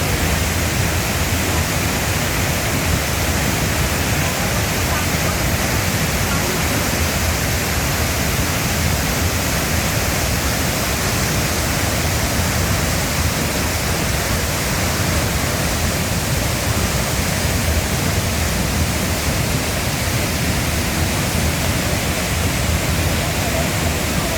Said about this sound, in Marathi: खूप असं उंचावरून पाणी येत आहे